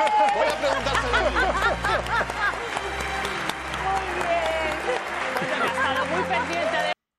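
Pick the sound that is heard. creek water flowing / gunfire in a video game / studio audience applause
studio audience applause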